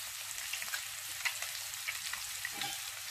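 Octopus pieces fry in olive oil in a blue steel pan over high heat with a bright, steady crackling sizzle. Small pops and soft stirring sounds come and go throughout.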